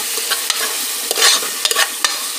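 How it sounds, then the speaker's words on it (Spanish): Sofrito sizzling and frying in a pan while being stirred, a loud steady crackling hiss with occasional scraping stirs, no voices. "aquí ya está haciendo el sofrito"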